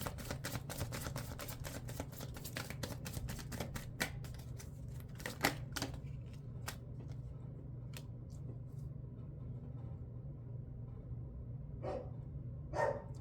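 Sharp, repeated dog barks come in quick bursts, dense at first and then sparser, fairly distant, over a low steady hum.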